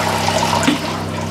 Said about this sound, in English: We're going to flush it to get it going.